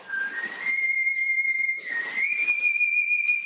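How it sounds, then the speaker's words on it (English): Proto Man's signature whistle from Mega Man 7 plays as a sustained, clear melodic tone that slides gently in pitch, loud and alone over a soft hiss. "Mr. Iconic Whistle himself, Proto Man"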